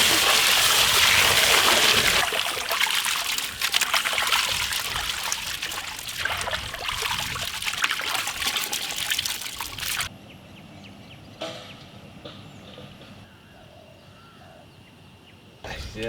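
Water splashes and trickles steadily as snails are washed with salt and turmeric for cooking in a village; loud rinsing fills the first ten seconds, then drops to a quiet background.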